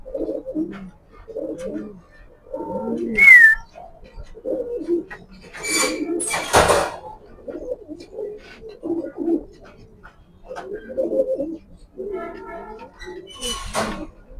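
Large Afsan grizzle pigeons, kept in pairs, coo in repeated low bursts close by, with a few sharp squeaks and bursts of rustling between them and someone talking quietly at times.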